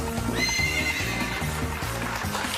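A horse whinnies high early on while hooves clip-clop in a steady, rhythmic beat throughout, a clear sound effect heard up close.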